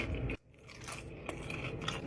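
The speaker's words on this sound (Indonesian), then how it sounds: "Sumpah nih ayam tuh garing banget." Crispy fried chicken gets bitten into up close, with a sharp crunch followed by continued crackling chews and scraping crunches, loud and with no talk.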